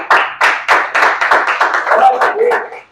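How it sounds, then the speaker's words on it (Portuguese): A church congregation claps hands in praise during a worship service, a loud, steady run of about a dozen sharp claps at a brisk, even rhythm. Voices blend in underneath toward the end. "Palmas para Jesus."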